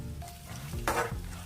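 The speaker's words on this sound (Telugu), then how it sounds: "కొన్ని ఎండుమిరపకాయలు విత్తనాలతో సహా వేసుకోండి." Dried red chillies, seeds included, sizzle in hot tempering oil with lentils and cumin for tamarind pulihora, a close, steady crackle with a brief louder burst and stirring.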